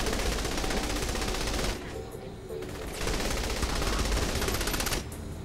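Rapid automatic gunfire in the open-world shooter Saints Row The Third, loud and dense bursts filling the clip with brief lulls between volleys.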